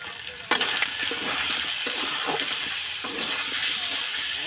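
Peeled, boiled potatoes dropped into oily, cooked-down spice paste, sizzling close and loud, with sharp stirring clatter from the pan throughout.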